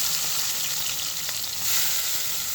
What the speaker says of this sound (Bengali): তেলটা গরম হয়ে চিংড়ি মাছগুলো ভেজে দেবো